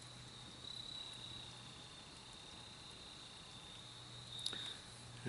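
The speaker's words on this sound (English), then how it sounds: "Hearing the crickets." Crickets chirp steadily at dusk in a quiet outdoor setting, a faint continuous high trill with soft background hiss.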